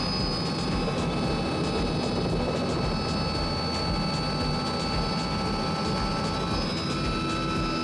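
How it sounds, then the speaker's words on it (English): Loud, constant roar of helicopter rotor blades in flight, heard from inside the cabin, a dense wash of noise with a fast, regular blade pulse running through it and no voices. "Very noisy because of the helicopter blades"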